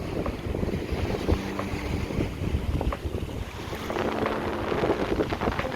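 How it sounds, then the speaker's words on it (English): Strong, gusty wind roars continuously on an open seaside viewpoint near Tromsø, Norway, buffeting the microphone with heavy low rumble and broadband hiss, with no voices heard. "It's really windy out here."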